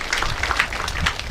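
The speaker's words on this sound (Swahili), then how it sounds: "Makofi makubwa tafadhali." Crowd applause at a tree planting event at Egerton University in Njoro, Nakuru County, steady clapping from many hands for a speaker, filling the short moment without a break.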